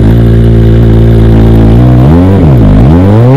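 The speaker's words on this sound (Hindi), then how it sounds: "नाउ अब हम ZX4R का एग्जॉस्ट नोट सुनते हैं।" A Kawasaki Ninja ZX-4R inline-four exhaust sounds at very close range, first a loud, steady, dense idle-like drone, then a few quick revs rise and fall sharply before settling back, with no talk over it.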